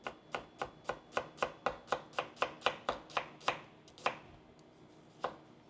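A knife chops julienne onion on a cutting board in a quick, even run of about fifteen crisp strokes, followed by a few slower, spaced cuts, close and clear with no talking.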